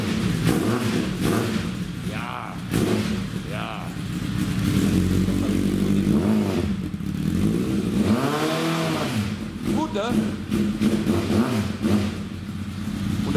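A cafe racer motorcycle engine in a garage starts and revs repeatedly, with rising and falling throttle sweeps and a rumbling idle between them, loud and close, while people talk briefly.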